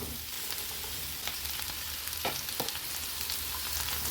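French beans stir-fry on high heat for Chinese-style veg noodles, giving a loud, dense, continuous sizzle with a few sharp clicks and scrapes as they are tossed.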